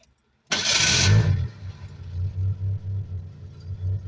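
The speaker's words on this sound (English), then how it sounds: "idles very well for sitting on bad gas, and the air box ain't hooked up." A Ford Ranger pickup that sat for years on bad gas, with its air box unhooked, cranks and fires after a moment of silence, roars briefly, then settles into a steady, close, slightly lumpy idle.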